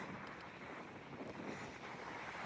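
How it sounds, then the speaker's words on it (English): Strong wind roars steadily into the microphone, a dense, constant rushing buffet with no pauses for the whole stretch. "it is so freaking windy, man"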